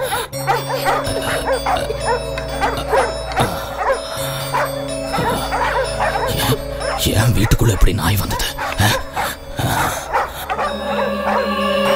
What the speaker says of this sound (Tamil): இந்த பாண்டியனோட கோட்டைக்குள்ள எப்படி நாய்கள் வந்தது?